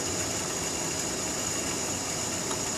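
A bench grinder wheel grinding an HSS lathe threading tool makes a steady, loud, unbroken whir with a high whine, continuous for the whole clip and with no talking.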